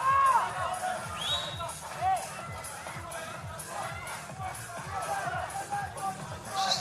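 A stadium crowd at a football match in Cadiz, with umbrellas out in wet weather, sends up a steady, distant murmur and hubbub, with occasional swells of noise.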